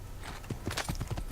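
Horse hooves clip-clopping in Assassin's Creed, a quick run of soft rhythmic hoof beats under a voice talking, ending with a short whinny-like note.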